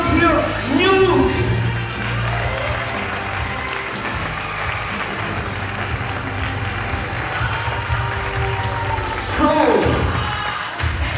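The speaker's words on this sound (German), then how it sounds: "Ganz großen Applaus für Newt!" Lively audience applause at a German talent show, continuous crowd clapping and some cheering that swells near the end, with a host speaking over it.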